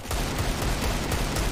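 Gunfire in Counter-Strike: Global Offensive, with dense rapid shots and bursts crackling close and loud for over a second in a steady barrage.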